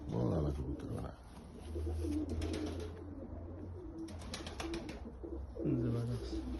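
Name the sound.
pigeons cooing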